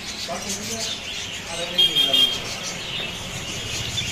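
Faint chirps and tweets from budgerigars and dove chicks in a bird shop, scattered short calls under steady background noise, with a voice talking.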